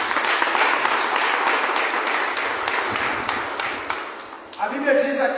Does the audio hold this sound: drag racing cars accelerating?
no